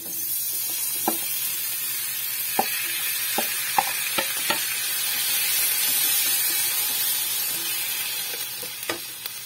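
Shrimp stir-frying in a pan with garlic, a loud continuous sizzle broken by scattered clanks and scrapes of a spatula against the pan, swelling slightly in the middle.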